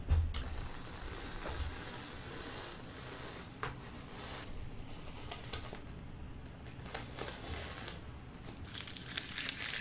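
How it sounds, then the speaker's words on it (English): Painter's tape peeled from a Bob Ross–style landscape painting, giving close, crinkly tearing and rustling in short uneven bursts over a quiet background. "It's time to take the tape off."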